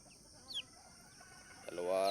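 Native chickens on a farm give a few soft clucks at a distance, with a louder cluck or call near the end, over a quiet background.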